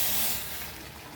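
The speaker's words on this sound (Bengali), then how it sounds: "এই জলটা আমি এখানে দিয়ে দেবো।" Hot water poured into a pan of jackfruit and prawn curry, a brief loud hissing splash that eases off slightly while staying steady, heard alone.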